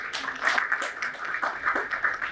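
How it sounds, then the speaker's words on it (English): Audience applause for two men being welcomed at a talk on the cat market, a steady patter of claps filling the whole moment at moderate loudness. "Could we have a round of applause for both our gentlemen here?"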